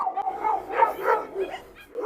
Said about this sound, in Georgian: დაიცადე, ღრენავს ძმაო, ღრენავს, მოდი ვნახოთ.